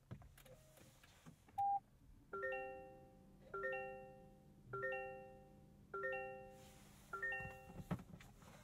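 A series of bright electronic chimes from a Toyota Corolla Cross Hybrid starting up plays in repeated multi-tone bursts, about five in a row, over a quiet low hum.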